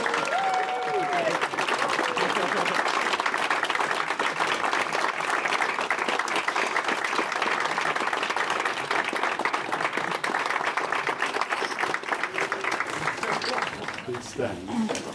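Wedding guests burst into sustained applause after the couple's kiss, dense clapping with some cheering voices, steady and close throughout before easing slightly at the end.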